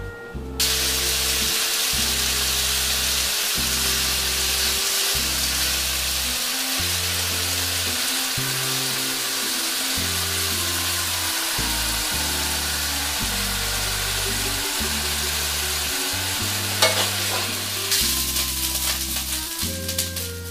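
Beef for Flemish stew sears in a hot pan with a steady sizzle, while stirring and scraping add rhythmic knocks throughout, heard close and without speech.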